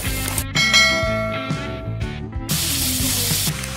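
Paneer cubes drop into hot oil seasoned with salt and Kashmiri chili for butter paneer masala, setting off a loud, steady sizzle up close with clanking of the pan in the opening seconds.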